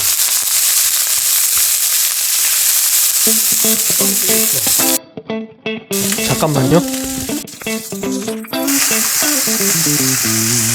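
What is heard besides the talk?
frozen fried rice sizzling in a preheated stainless steel pan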